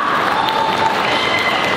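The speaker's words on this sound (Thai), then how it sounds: "ขอเชิญปรบมือให้กับแบรนด์แอมบาสเตอร์ของ เราอีกรอบหนึ่งค่ะ" Crowd applause for two brand ambassadors at a 25th-anniversary celebration for the German eyewear brand ic!berlin, a dense, even wash of clapping with faint cheering and a brief voice underneath.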